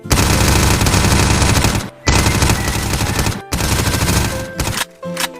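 Full-auto MP5 fire from a Gun3D weapon addon in a video game, loud sustained bursts broken by brief pauses, the last burst shorter and followed by mechanical clicks.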